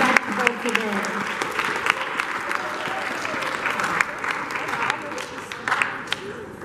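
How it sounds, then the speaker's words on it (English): A high school audience applauds a guest speaker, with steady dense clapping throughout at a fairly close distance. "Please give him a round of applause and be respectful today."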